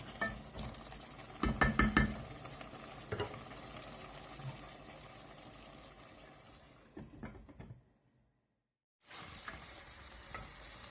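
Mutton liver frying in a pan, a close, steady sizzle with occasional stirring scrapes and clinks, briefly cutting out before the frying resumes.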